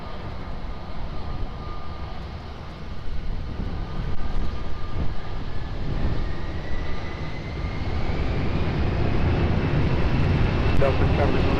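An airplane takes off from runway 20 at Lisbon Airport, its engine roar heard from a distance and swelling steadily, with radio voices talking over it.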